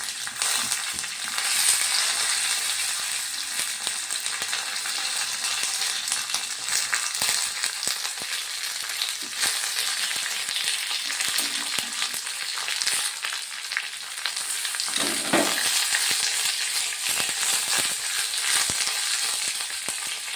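Curry leaves and mustard seeds fry in hot oil in a kadai for a mango olan curry, a loud, continuous sizzle and crackle close by with sharp pops scattered throughout.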